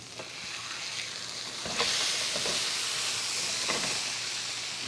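Steak sears with a loud, steady sizzle and hiss in a hot pan, swelling sharply as the meat is flipped, with a few bright crackles and spits rising above the constant frying noise.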